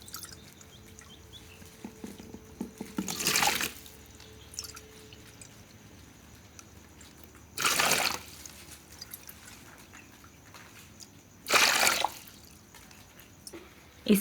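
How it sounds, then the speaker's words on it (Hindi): Water poured into a cooking pot in three separate bursts, each a short splashing gush lasting about a second, with quiet pauses and faint clinks between them. "इस बर्तन में हम 6 पाव पानी डालेंगे।"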